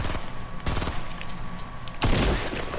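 Rapid bursts of video game gunfire crackle in three loud volleys, with a heavier burst near the end, while the player is under fire from another squad.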